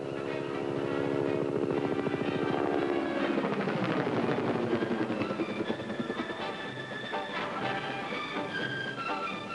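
Attack helicopters flying evasive maneuvers in a ground combat operation, a loud rotor and turbine roar with a whine that sweeps downward as they pass, then fading into a steadier, slightly more distant drone.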